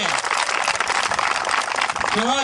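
An audience at the opening of a veterans' football tournament breaks into dense, steady applause, loud and continuous throughout.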